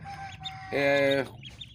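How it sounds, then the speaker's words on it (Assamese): A hen clucks up close among chicks, giving one loud drawn-out call in the middle with softer peeps and clucks before and after. "আকৌ বাকী কুকুৰা পোৱালি দেখাবলৈ আপোনালোকক গৈ আছোঁ"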